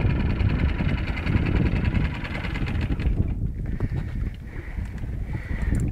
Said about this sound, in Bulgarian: Угаси мотора са.